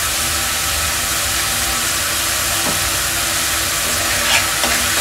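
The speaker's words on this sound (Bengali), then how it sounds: "এরপর আমি মশলাটাকে খুব ভালোভাবে কষিয়ে নেব" Ground spice masala of cumin, coriander powder and salt stirred and fried in a pan for a Bengali poa fish curry, giving a steady close sizzle with scraping stirs throughout.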